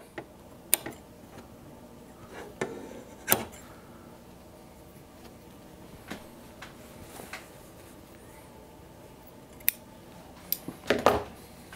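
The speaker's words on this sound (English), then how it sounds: "Go ahead and get our threads all trimmed up." Scissors snip loose threads after machine stitching on a Western-style vest, a handful of sharp, isolated clicks scattered across quiet pauses, with a quick flurry of cuts near the end.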